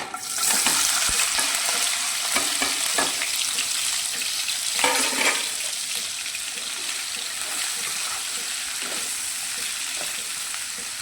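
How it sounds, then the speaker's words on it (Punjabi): Cut paneer cubes fry in hot oil with a close, continuous sizzle, punctuated by a few scraping stirs early on, then settling into steady crackling with no talk. "ਤੇਲ ਦੇ ਗਰਮ ਹੁੰਦਿਆਂ ਹੀ ਇਹਦੇ ਵਿੱਚ ਆਪਾਂ ਕੱਟੇ ਹੋਏ ਪਨੀਰ ਪਾ ਦਿੰਦੇ ਹਾਂ"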